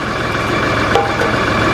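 Tractor engine running near a log splitter, a loud, steady diesel drone that holds an even level throughout and has no voices over it.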